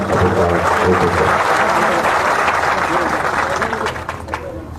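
A crowd at a Maratha community meeting in Antarwali Sarati claps in a broad, continuous wash of applause with a murmur of voices, tapering off in the final second.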